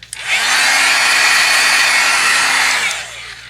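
A hair dryer runs steadily for about three seconds to dry a watercolor and ink painting, producing a loud, even, close whooshing hum that starts and stops abruptly, with no talk.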